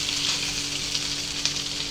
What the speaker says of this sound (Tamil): இன்னும் கொஞ்சம் எண்ணெய் போடுறோம். நல்லா ஃப்ரை ஆகணும்.